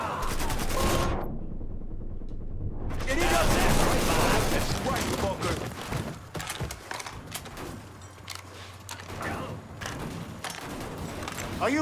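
Gunfire in the video game Mafia 3, a dense, continuous burst of loud shots and impacts filling the scene, with someone talking over the shooting.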